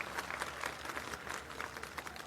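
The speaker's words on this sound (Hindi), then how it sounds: "एक बार जोरदार तालियां बजा दो अपने किसान भाइयों के लिए।" A crowd at a farmers' gathering in Uttarakhand applauds steadily, a faint, distant wash of clapping lasting a couple of seconds with no talk over it.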